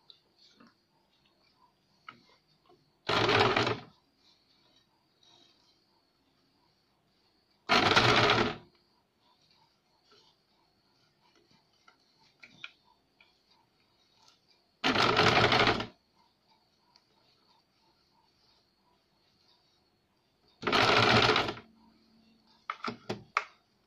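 Sewing machine stitching pleats into lace for fabric flowers, running in four loud bursts of about a second each, spaced several seconds apart, with quiet handling noise between.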